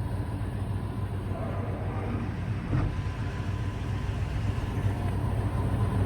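1982 Chevrolet K10 Scottsdale 4x4 pickup truck engine running, a steady low rumble at idle, continuous and fairly close with no talk.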